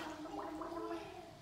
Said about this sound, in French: On fait des bulles avec le nez et la bouche?